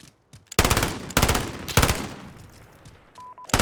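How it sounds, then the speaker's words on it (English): Gunfire in Call of Duty Modern Warfare, three rapid automatic bursts of sharp close shots separated by brief gaps, loud and punchy. "So shooting from the hip works really well."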